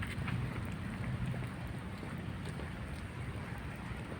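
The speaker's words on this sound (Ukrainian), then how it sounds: "на вулиці йде дощ" Steady rain hisses and patters outdoors, a dense, even wash of noise with faint drops throughout and no voices.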